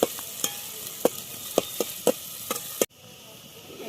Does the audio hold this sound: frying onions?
yes